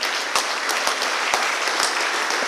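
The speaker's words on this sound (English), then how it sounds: "Let us give them a huge round of applause." Dense applause from a graduation ceremony crowd fills the room, steady clapping with occasional sharper claps standing out, loud and continuous throughout.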